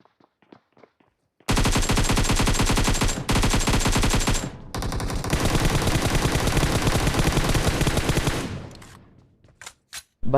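M4 rifle fire in PUBG Mobile: long, loud bursts of rapid automatic shots that break off briefly and resume, then trail away into a few isolated shots.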